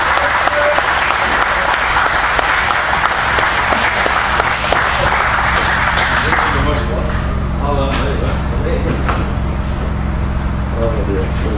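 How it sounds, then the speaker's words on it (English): Warm crowd applause for a local Irish country singer in a radio station festival tent, loud clapping that thins out partway through while voices and a low hum carry on underneath. "Please give him a very warm round of applause."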